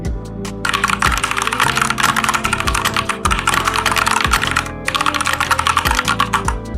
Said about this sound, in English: fast typing.